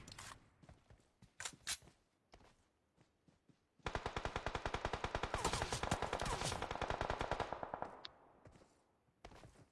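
Video game gunfire: scattered single shots and short bursts, then a sustained rapid automatic stream lasting several seconds, with more isolated shots afterward, loud and close with no talking over it.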